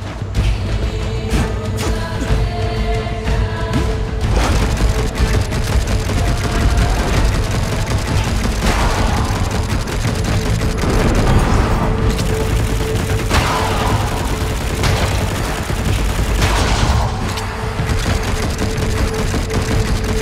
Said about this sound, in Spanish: Qué bueno es el disparo básico de lucha